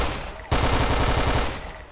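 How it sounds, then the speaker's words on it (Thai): A teammate fires a rapid burst of about a dozen gunshots in the online shooter game XShot, a sharp, close, evenly paced volley that tails off after about a second. "เสียงเพื่อนยิงไม่ใช่เสียงเพื่อนโดนฟัน"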